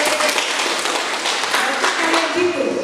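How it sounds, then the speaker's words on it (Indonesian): Schoolchildren applauding in a classroom lesson, a dense, steady patter of many hands clapping together for about three seconds at moderate loudness, with no clear talk on top. "tepuk tangan untuk kalian"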